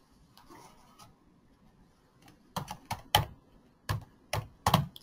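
Keys clicking on a computer keyboard as an email address is typed, a faint scattered patter that turns into a quick run of sharp, distinct taps toward the end, with no talking.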